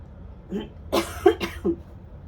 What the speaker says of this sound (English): Powder made me cough.